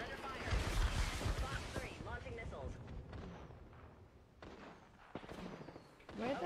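Gunfire and missile launches in a video game air battle, dense overlapping bursts and booms that are loudest at the start, then thin out and return near the end, with voices heard over the combat.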